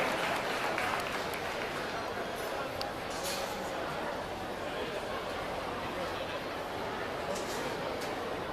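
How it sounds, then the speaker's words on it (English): Audience applauding at a youth fair swine show, a steady wash of clapping that lasts the whole stretch, faint and distant, with chatter mixed in. "let's have a round of applause"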